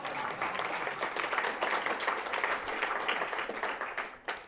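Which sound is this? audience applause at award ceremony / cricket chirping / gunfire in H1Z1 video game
audience applause at award ceremony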